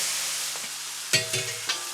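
Fresh beef browns in a pot for an 18th-century lobscouse, a steady loud sizzle with a few sharp stirring clicks and scrapes near the end, with no talking.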